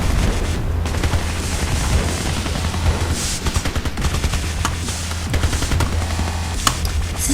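Gunfire in the Battlefield video game, dense overlapping shots and bursts over a loud, continuous battle din throughout.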